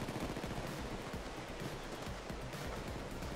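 Dense, continuous rattling gunfire from the video game Payday 2, a rapid stream of shots blurred into a loud, noisy roar with no pauses.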